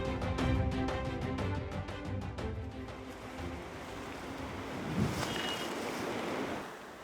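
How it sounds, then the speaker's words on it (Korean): High waves crash outside a breakwater near Jangsaengpo harbour as a typhoon approaches, a dense continuous roar of surf mixed with strong wind buffeting, loud and close, with no voices. "강한 바람과 함께 방파제 밖에는 높은 파도가 몰아칩니다."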